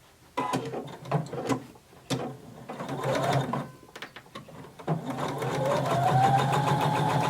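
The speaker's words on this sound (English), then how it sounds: "you're going to be sewing about 1/8 of an inch away from your seam" A sewing machine understitches a denim pocket seam in several short, close bursts of clattering stitching, then settles into a longer continuous run that builds steadily toward the end.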